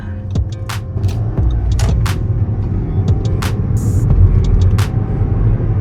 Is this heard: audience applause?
no